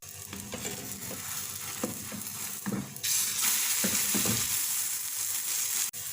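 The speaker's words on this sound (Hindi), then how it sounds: "जो हमने अंडे का मेज़ा बनाया था वो इसमें डाल देंगे और इसको ऐसे पैन में फैला देंगे" Beaten egg mixture for an omelette sizzles steadily in a hot pan, a continuous loud frying hiss that swells stronger midway, with occasional soft stirring or spreading knocks.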